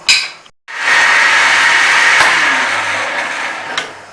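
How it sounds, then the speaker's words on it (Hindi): An electric grinder pulverises spices including garam masala for a liver dish, whirring loudly and steadily after a short start and brief stop, then winding down slightly near the end. "ये तमाम चीज़ें जो है ना ग्राइंड करके बताती हूँ आपको"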